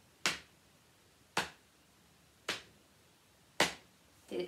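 Single sharp hand claps ring out at an even pace, four evenly spaced strikes about a second apart with a fifth starting at the end, clapping a rhythm in a quiet room.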